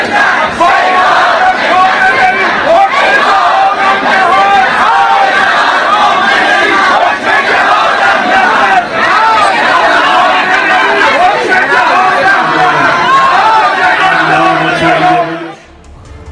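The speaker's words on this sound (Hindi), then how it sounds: "तेहरान में हजारों की भीड़ आप देख रहे हैं।" A dense crowd of thousands in Tehran celebrates, a loud, continuous roar of cheering, chanting voices and babble that holds steady throughout before cutting off near the end.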